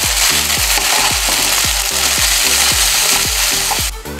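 Homemade spaghetti noodles stirred in a hot pan with loud continuous frying sizzle and a regular rhythm of scraping strokes, roughly two per second, close and unvoiced.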